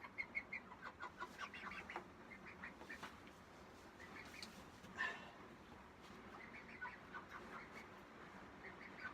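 Chicken clucking inside a backyard coop: steady, faint clucks and short calls repeating throughout, with other fowl sounds mixed in at a moderate distance and no talk.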